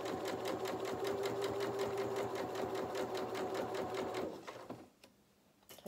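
A sewing machine runs a quarter-inch seam in a steady rapid whirring stitch for several seconds, close and clear, then stops abruptly, leaving a few faint clicks.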